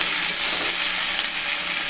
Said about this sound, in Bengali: এখন কম তেলে কত সুন্দর করে আলু ভাজা হবে দেখুন